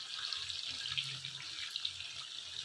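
Water is poured away in a kitchen, a faint, steady rushing stream like a running tap that continues evenly throughout with no speech.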